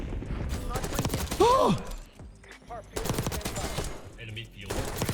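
Rapid gunfire from the Krig C assault rifle in the video game Black Ops 6, loud bursts of automatic shots broken by a short lull, with a player's brief exclamation over the top.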